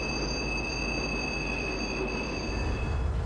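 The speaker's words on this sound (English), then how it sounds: "On some of the tight curves, you'll hear wheel flange noise like this." A freight train on the Norfolk Southern Pittsburgh Line rolls through a tight curve in a train simulator, steady high wheel flange squeal ringing over a constant low rumble of cars, no voices.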